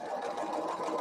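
A sewing machine runs steadily through the next quilting seam, its close, even motor hum and rapid needle chatter continuing unbroken for the whole brief moment.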